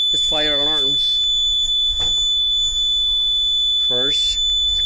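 A fire alarm in a sprinkler system gives a constant high-pitched tone throughout, with two short voice-like bursts near the start and end.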